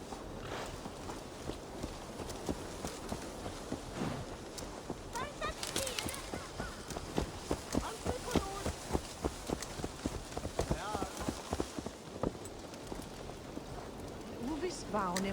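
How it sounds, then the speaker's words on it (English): Horse hooves clip-clopping at a steady walking rhythm in Assassin's Creed Valhalla, continuous and close, mixed with game ambience and occasional bird-like calls. "Let's return the horse."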